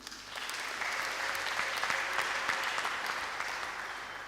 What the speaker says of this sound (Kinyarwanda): Muntize amashyi tubashimire.